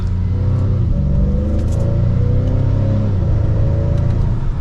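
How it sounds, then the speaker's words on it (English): Acura TLX SH AWD A Spec engine in sport mode pulls hard under acceleration, a loud steady rumble with rising harmonic sweeps as revs climb and shift, heard from inside the cabin with no talking. "it's a very peppy engine."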